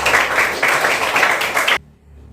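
Children in a classroom clap together in a burst of applause lasting under two seconds, then it cuts off abruptly into near silence.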